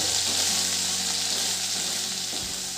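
Bitter gourd slices frying in oil in a pan produce a loud, steady sizzle with soft stirring scrapes underneath, close up and without talk.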